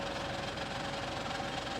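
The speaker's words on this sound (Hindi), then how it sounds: "There is no major noise in the spindle or in the gearbox of this machine." A T-type horizontal boring machine from Graffenstaden, France, with a 100 mm spindle, runs at 450 rpm, giving a steady, even mechanical hum with a faint rhythmic knock throughout and no talking.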